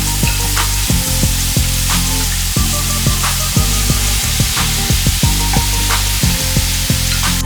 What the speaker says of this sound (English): we're gonna start by cooking off the shrimp